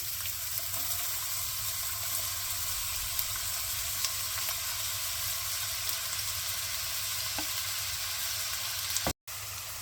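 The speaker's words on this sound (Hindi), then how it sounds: "अब हमारा ऑयल गर्म हो गया है, ये चॉप किया हुआ ओनियन डाल देते हैं।" Chopped onion frying in hot oil for a restaurant-style chicken gravy, a steady close hiss of sizzling with faint stirring clicks, broken briefly by a dropout near the end.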